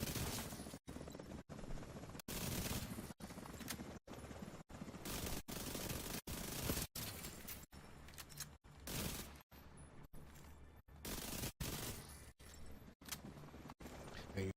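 Submachine gun fire in the shooter The Division 2, loud rapid bursts chopped by brief clean pauses roughly every second, repeating steadily throughout with no talking.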